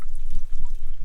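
Spring water flows and trickles steadily at a Sahara oasis, a close, continuous babbling with soft drips and gurgles, no voices.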